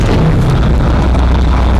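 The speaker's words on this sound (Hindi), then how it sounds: "इसके बाद जोर का धमाका हुआ और टैंक नष्ट हो गया" A loud, sustained rumbling blast from a tank being destroyed in Gaza fills the whole moment, deep and heavy like an explosion with no talk.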